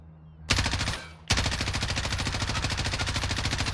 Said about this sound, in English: now let's try a little bit more controlled shooting with this one.